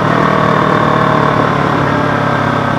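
A Z300 car engine running through its exhaust pipe, a loud, steady, close droning rumble with no voices.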